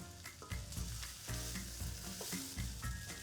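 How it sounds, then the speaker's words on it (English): Andouille sausage browns in a pan for seafood gumbo, a soft sizzle broken up by repeated stirring scrapes and clinks, fairly quiet and close. "just stir that together, let it cook for a couple minutes to get some caramelization on that sausage as well"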